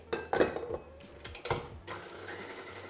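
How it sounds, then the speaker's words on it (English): An electric stand mixer beats cake batter with freshly added eggs, giving a few clattering bursts up close before settling into a steady whirring hum. "Get them in and then straight onto the mixer again."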